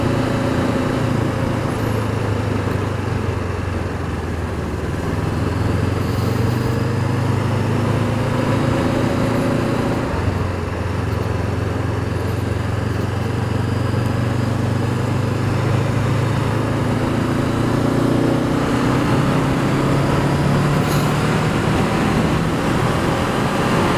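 A 2019 Honda CB500F motorcycle engine on a test ride, a steady loud low drone with a brief dip around the middle as revs change, continuous with wind noise.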